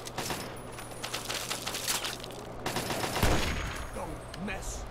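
Sniper rifle fire in a video game, with a run of sharp shots and a heavy boom partway through under a continuous low hum.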